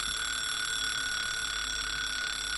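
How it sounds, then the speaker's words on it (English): Alarm clock ringing in the D.C. Da Capo visual novel game, a continuous electronic tone with steady pitch sounding alone and unbroken. "I murmured to myself and stretched towards the alarm clock."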